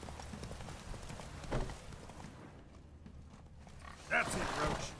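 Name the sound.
horse hooves clip-clopping while riding Roach in The Witcher 3 video game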